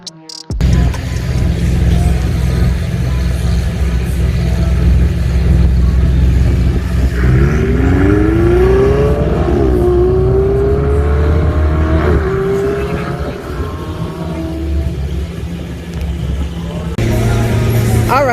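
An exotic Lamborghini Huracan sports car lapping a racetrack, its engine roaring loud and close as it accelerates and shifts, revs sweeping up and down, with someone talking over the noise.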